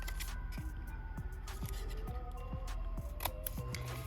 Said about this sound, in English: I'm going to cut up on the score line to release the flap